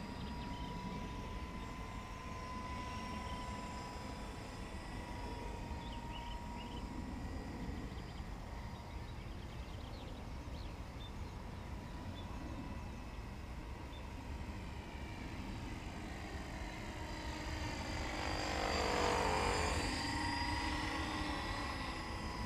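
A ready2fly Eco 7 RC model airplane flies a smooth circuit, its electric motor giving a steady, fairly faint whine that rises briefly louder near the end as it passes closer.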